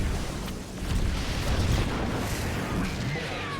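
Cannon fire explosions in the StarCraft 2 video game rumble as a dense, continuous wash of booms and bursts, loud and close, with no clear gaps between blasts.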